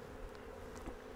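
Honey bees buzz faintly around an open Flow Hive during a brood inspection, a soft, brief insect hum with no voices.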